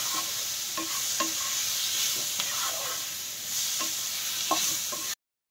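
Eggs frying in a pan for a jackfruit and egg curry, a steady loud sizzle with a spatula stirring and scraping in a rhythmic series of light knocks, close up, with no talking.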